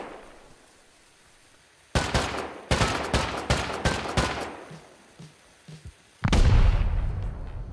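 Satchel charges explode in the Rust survival game: a run of loud, sharp blasts in quick succession, followed by a pause with faint knocks and then a final heavy, booming detonation with a rumbling tail.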